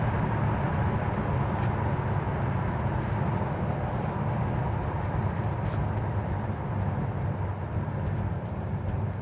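A built small-block V8 in a 1971 Chevy Nova on the move, heard from inside as a constant low engine rumble and road drone, steady and unbroken with no talk.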